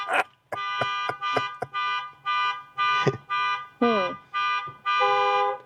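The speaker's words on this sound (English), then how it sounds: "Honking their horn." A car horn honks repeatedly on a Waco, Texas street, loud and near, in a run of sustained toots broken by short gaps, with voices briefly audible among the blasts.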